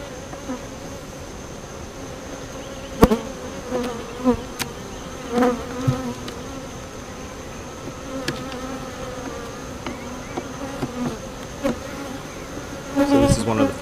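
A honeybee swarm hums in a swarm box, a dense steady buzz close by with occasional louder passes of individual bees and light clicks of handling.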